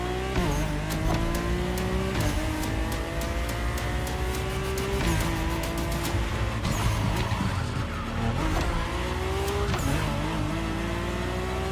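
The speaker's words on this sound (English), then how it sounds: "My ultimate appointment in this country was set with the breathtaking Mercedes AMG 1" Mercedes-AMG One hypercar engine revving hard and close, pitch climbing and dropping through several quick gear shifts in a steady, loud run with no one talking.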